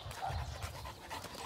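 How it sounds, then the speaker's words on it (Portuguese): A calm dog pants quietly in short, quick breaths, close by but faint, for a brief moment with no other sounds. "graças a Deus é um cachorro tranquilo, sossegado, não dá nada"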